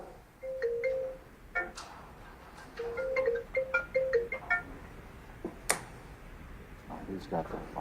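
A mobile phone ringtone sounds in a courtroom at a hearing, playing several short repeated electronic tone bursts at moderate volume while people talk around it.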